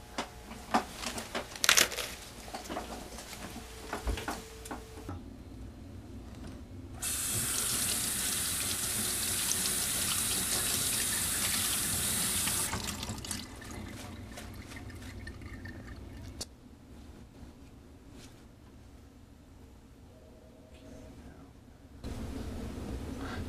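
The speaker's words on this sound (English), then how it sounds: "It is advisable to first wash the lettuce." Tap water running in a sink over leaf lettuce being washed, a steady hiss that swells louder when the stream hits full flow, with splashing and handling of the leaves, close by and no talking.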